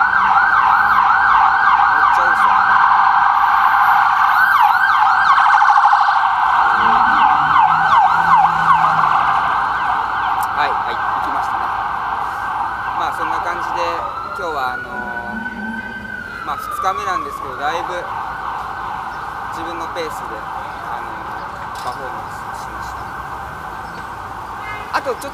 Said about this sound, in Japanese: すごいこっちのパトカーの音すごいうるさいんですよ。